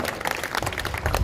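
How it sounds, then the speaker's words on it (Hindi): A crowd at a political rally in Mokama, Bihar claps loudly, a dense short burst of applause that is close and continuous, with no voices over it. "जोरदार ताली पूरे बिहार की ओर से मोकामा के लोगों को बजाना है"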